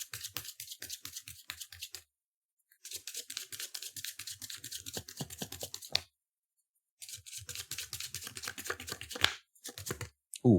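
Tarot cards being shuffled loudly in bursts of rapid riffling clicks, broken by short pauses, close and alone.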